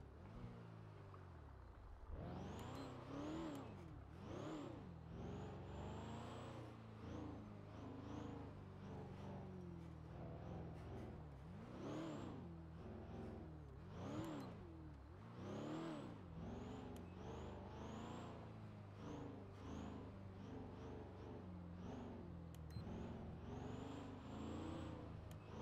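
A car engine in a driving video game: a steady motor drone rising and falling in pitch through repeated revs and gear changes, continuous and moderately loud throughout, no speech.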